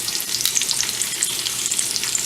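Bacon strips sizzling and crackling in a greasy pan, a steady dense fry with scattered pops, close and moderately loud with no one talking.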